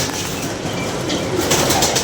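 A pigeon cooing nearby with soft, low murmuring calls and a brief rustle, moderately loud against a steady background hiss.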